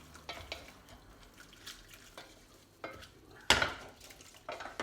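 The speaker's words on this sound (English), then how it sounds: "So the linguine in the tomato sauce. Let's give it a mix round" Linguine in tomato sauce is mixed around in a pan, with soft scraping and stirring, scattered light clinks of a utensil and one sharper clank, all fairly quiet with no talking.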